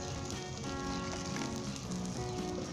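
Methi paneer paratha cooking on a pan in vegetable ghee, a soft, even sizzle that stays constant and fairly quiet for its short length.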